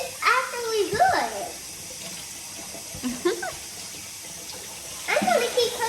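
Water runs from a kitchen tap in short bursts as items are rinsed out, close and moderately loud, with a voice talking between and over the splashing.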